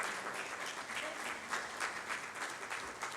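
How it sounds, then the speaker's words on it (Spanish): A church congregation applauds together at a sermon's call for an offering of palms, steady dense clapping sustained throughout at moderate distance with no talk over it. "¿Cuántos le dan una ofrenda de palmas a nuestro Redentor y Salvador Jesucristo?"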